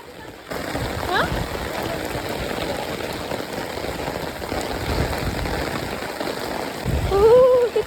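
Steady rainfall hisses throughout, a dense wash of patter with a few louder splashes and a faint voice near the end.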